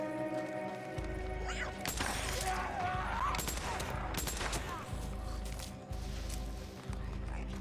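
A Tommy gun firing in the game Days Gone: sharp bursts and clustered automatic shots over a low engine-like drone, fairly close, with scattered impacts and talk in between.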